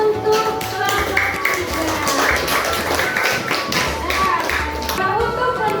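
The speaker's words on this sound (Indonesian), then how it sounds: "tepuk tangan untuk kelompok" A classroom group gets a round of clapping from students, a close, busy patter of hand claps that holds for several seconds with voices mixed in underneath.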